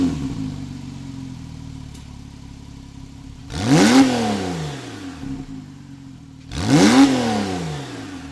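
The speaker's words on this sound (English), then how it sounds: "This is my Porsche 911 Targa" A Porsche 911 Targa GTS engine idles at a steady low rumble, then blips twice in sharp revs that climb and fall back, close and loud, with no talking.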